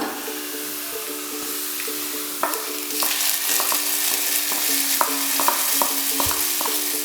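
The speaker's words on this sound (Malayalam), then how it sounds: "നമ്മുടെ ഉള്ളി ഇവിടെ ഗോൾഡൻ ബ്രൗൺ ആയിട്ടുണ്ട് നമുക്കിന്ന് ഇനി നമ്മുടെ ചിക്കനകത്തോട്ട് ഇടാം" Chicken pieces go into golden-brown fried onions in a pan for a Kerala-style chicken stew, giving a steady close sizzle and frying hiss with clinks and scrapes of a spoon stirring throughout.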